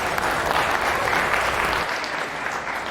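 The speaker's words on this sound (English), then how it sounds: "Let's give all those individuals a big round of applause." Steady, dense applause from an audience at a county fair dairy steer show, a full crowd clapping continuously at close range, with faint voices mixed in.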